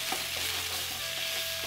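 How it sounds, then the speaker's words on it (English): Chopped beef frying in oil in a stir-fry pan, a steady dense crackle with a low hum beneath it, with a few soft scraping stirs and no one talking. "And then we're going to add in our chopped meats."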